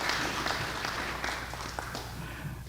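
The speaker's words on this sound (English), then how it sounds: "Why don't we give them a round of applause," An audience at a Minnesota community meeting gives a steady patter of applause that stays fairly soft and diffuse throughout, as if heard from a distance in a large room.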